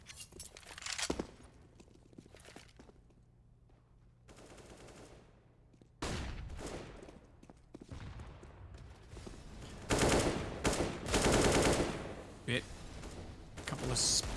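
Gunfire in Counter-Strike on the map Mirage during a Gambit versus NAVI esports match: scattered single shots and rapid bursts crack at varying loudness, with commentators talking over them.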